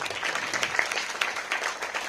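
A small audience claps for a female singer at a school memorial event in Solapur, a modest spread of scattered hand claps heard from a distance, fairly faint.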